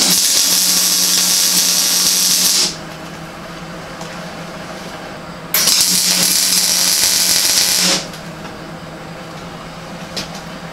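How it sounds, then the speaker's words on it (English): An angle grinder cleaning mill scale off steel brackets runs in two loud, harsh bursts of a couple of seconds each, with a lower machine hum persisting in the gaps between them. "I'll clean these up with the grinder"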